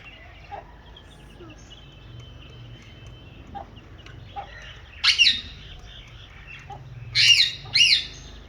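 Finches feeding on scattered rice give a few sharp, loud squawking calls in short bursts, one near 5 seconds and a louder pair near the end, over a low steady background hum.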